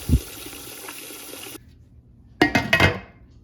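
Tap water runs into a large canning pot being readied for jars of strawberry lemonade concentrate, a steady pour that cuts off, then a louder gushing burst of water.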